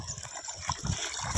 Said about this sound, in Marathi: इथं पाणी, इथं आपण आपले पाय धुवून घेऊ